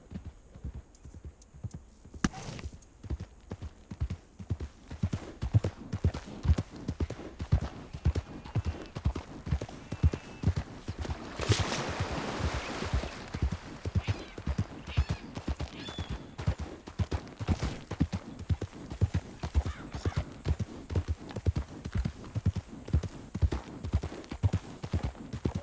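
Hooves clop along at a steady walking rhythm, evenly repeated for the whole stretch, with a brief rush of noise partway through.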